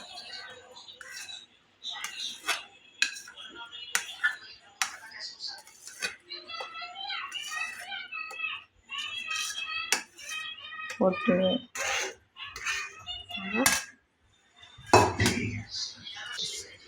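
A spoon scrapes and clinks against a pan while cooked carrot halwa is transferred onto a plate, a string of sharp metallic taps and scrapes mixed with a woman's speech throughout.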